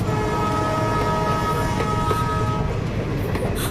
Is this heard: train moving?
yes